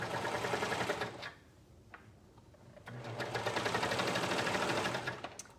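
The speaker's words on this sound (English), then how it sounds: "we're going to sew the hood in place" A sewing machine stitches a hood onto a child's bathrobe, running steadily with a fast mechanical chatter, pausing briefly in the middle before resuming at a close, even pace with no talking.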